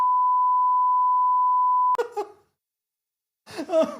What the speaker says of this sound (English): I'm going to beep